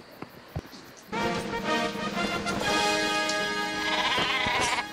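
Super Sheep in the Worms Reloaded video game gives a loud, close, wavering bleat lasting several seconds, preceded by a few short game clicks.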